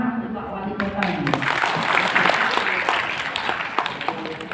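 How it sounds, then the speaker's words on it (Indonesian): Applause from a seminar audience for the mayor, a dense, steady round of clapping that carries on for several seconds, with voices mixed in. "ini tepuk tangan untuk Pak Wali Kota ini"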